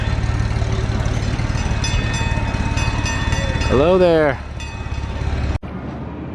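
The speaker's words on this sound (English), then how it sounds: "the train is called Rattlesnake Junction" The Rattlesnake Junction park train at Magic Forest rumbles nearby with a brief horn-like rising tone, while a person speaks a short greeting over the running noise.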